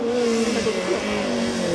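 A Peugeot 205 race car at the 2017 Quettreville hill climb, its engine holding a loud, steady, droning note that wavers slightly, with faint voices in the background.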